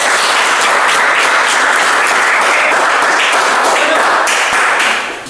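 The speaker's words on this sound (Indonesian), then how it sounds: "kita berikan tepuk tangan untuk kelompok 1." A classroom of students applauds a discussion group, dense steady clapping filling the room loud and close for about five seconds before tapering off at the end.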